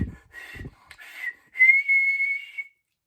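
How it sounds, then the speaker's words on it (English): A child blows a real whistle, a sustained shrill tone after a few breathy, sputtering attempts, with soft thumps at the start, fairly close and clear. "Suddenly, a real whistle came out."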